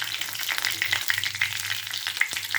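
Whole spices such as fennel seeds, cardamom and cinnamon bark crackle and sizzle in hot oil for a spicy chicken gravy. A close, steady frying hiss is punctuated by sharp pops and a brief stir.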